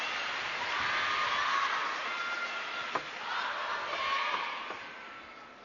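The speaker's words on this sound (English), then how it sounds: "Crowd's up, by the way. You can hear that." Crowd noise rises and swells at a table tennis semifinal between Wang Chuqin and Liang Jingkun at Singapore Smash 2025, a sustained roar of cheering with a brief sharp peak near the middle.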